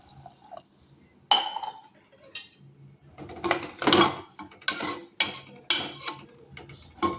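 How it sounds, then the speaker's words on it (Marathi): Water is poured into a cooking pan of sprouted moth beans, heard as repeated splashing bursts with metallic clinks of the pan and utensils, close and fairly loud, with no talk. "तर आता घेऊ पाणी टाकून."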